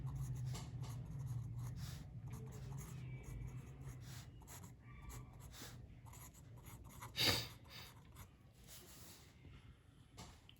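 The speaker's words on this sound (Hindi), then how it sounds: "सॉल्यूशन, पहले मैं इक्वेशन लिख लेता हूँ।" A pen scratches steadily across paper as a chemistry equation is written out, a soft close scribbling that continues for the whole stretch with a brief louder knock partway through.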